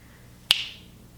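One sharp finger snap, close and crisp, with a short bright tail and only faint background hum around it.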